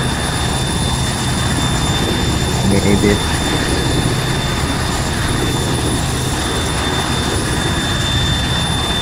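A loud helicopter engine in the military game Arma 3 drones steadily with a whining rotor hum, filling the whole stretch while a voice speaks briefly over it.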